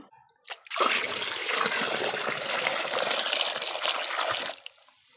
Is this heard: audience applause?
no